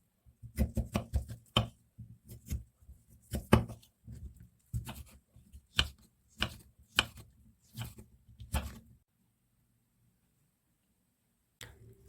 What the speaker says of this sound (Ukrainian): Свіжий огірок нарізаю кубиками.